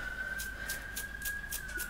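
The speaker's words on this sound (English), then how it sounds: "Oh, ambulance." An ambulance siren heard from indoors as it passes outside: a faint, steady high wail with regular pulsing bursts, muffled and distant over low room hum.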